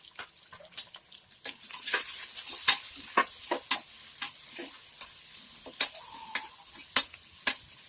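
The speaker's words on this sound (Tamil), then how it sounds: "இந்த வெங்காயம் நல்லா ப்ரௌன் ஆகும் வர வதக்கி எடுத்துக்கலாம்" Four large sliced onions sautéing and being stirred in a pan over high flame, a steady sizzle broken by a series of sharp, close spatula scrapes at a regular rhythm, with no talk.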